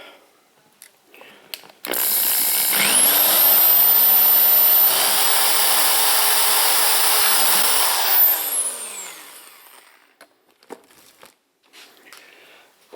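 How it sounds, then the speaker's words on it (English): A power drill bores into a gas can with a loud, sustained high whine that rises as the motor spins up, holds for several seconds, then winds down, framed by soft clicks and handling noises. "let me get a bigger drill"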